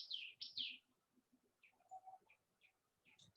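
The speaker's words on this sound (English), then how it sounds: "So many birds near by my house making sound." Several birds calling near a house, with bright chirps and short tweets scattered irregularly over a faint lower cooing, moderately quiet and at a middle distance.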